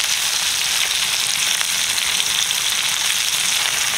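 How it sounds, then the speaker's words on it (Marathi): Fish frying in a pan in a Malvani-style fish fry, a loud, dense, continuous sizzle and crackle that holds steady throughout with no voices. "ह्या माशामध्ये चुरचूर आवाज बंद होण्यापर्यंत आपण"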